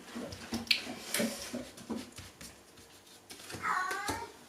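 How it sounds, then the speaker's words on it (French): A pet cat gives several short meows close by, including a rising, drawn-out cry near the end, against faint household background noise. "Voilà, c'est mon chat."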